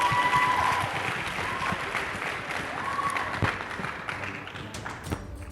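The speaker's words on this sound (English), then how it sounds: "Please give them a round of applause." An audience at a girls' high school debate competition applauds after a team's score is announced, a broad rattle of many hands clapping that slowly thins out, with a few thumps and faint voices underneath.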